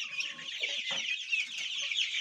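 Fizan breed chickens and chicks in a poultry coop cluck and peep continuously at close range, a dense chorus of high chirping with low clucks underneath.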